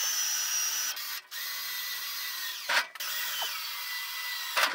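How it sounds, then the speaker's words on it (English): A power drill whirs steadily at high pitch while drilling gently into a cargo trailer, briefly stopping and restarting twice, close and loud with no talking. "So we'll have to go in real gentle when we drill it."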